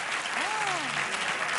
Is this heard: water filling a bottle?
no